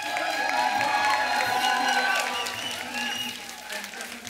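Studio audience on a comedy talk show applauds and cheers loudly for three guests, a dense, steady wash of clapping and whoops that eases slightly toward the end.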